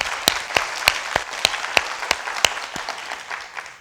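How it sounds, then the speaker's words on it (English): Applause at a women's TV show taping, led by sharp, evenly spaced claps from one nearby person over a softer patter of audience hands, fading slightly toward the end. "so I just want to give you a round of applause."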